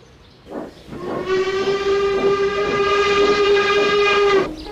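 A steam engine sounds its whistle in one long, loud, sustained blast close by, after a brief softer sound before it starts.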